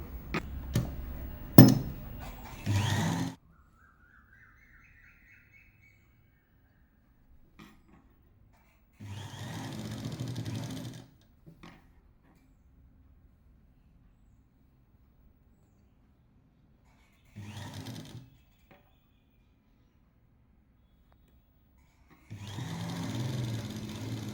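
A sewing machine stitches the folded half-inch hem of a dhoti salwar pant in several short, steady runs separated by long quiet gaps, close by and with no talk.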